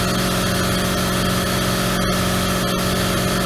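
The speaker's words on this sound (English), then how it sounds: "you can hear my quincy air compressor is going off" A loud, steady mechanical drone of a Quincy air compressor running continuously, with a couple of brief clicks partway through.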